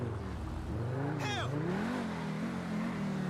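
Lamborghini Huracán EVO Spyder supercar in GTA 5, a steady engine drone with a rising rev sweep, partly under a voice talking over it.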